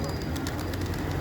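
Pigeons being fed grain and water coo nearby, a steady layered murmur of soft calls, with a person talking over them.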